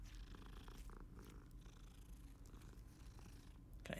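A cat in a video game purrs softly and continuously, a low rhythmic rumble heard close but quiet, with no speech over it.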